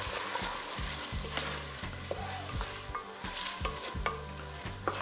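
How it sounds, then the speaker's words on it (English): Onions and peppers fry in a little oil for chili, with a bright continuous sizzle and a rhythmic run of close, repeated scraping strokes as the pan is stirred. "So now, got that little bit of oil in there, we're gonna dump these onions in, and we're gonna dump the peppers in."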